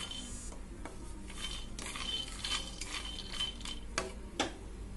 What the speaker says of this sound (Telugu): పాన్ ని పెట్టుకొని హీట్ చేసుకొని దాంట్లో పల్లీలు వేసి దోరగా వేయించుకోవాలి।